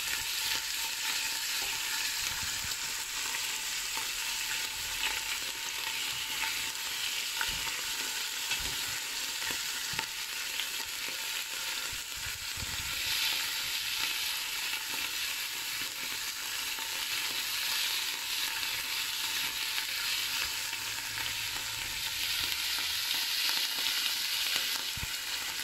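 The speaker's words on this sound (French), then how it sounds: "Donc vous laissez dorer la viande, vous la retournez." Beef browns in a pan for a beef bourguignon, giving a loud continuous sizzle with occasional soft knocks and scrapes and no voices.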